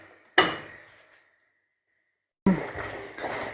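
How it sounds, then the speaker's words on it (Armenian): An egg cracks sharply against a cooking pot of simmering soup with fried onion, a single crisp knock that fades, then silence before a second clattering burst of pot noise. "վերջում էլ մի հատ ձու եմ կոտրել"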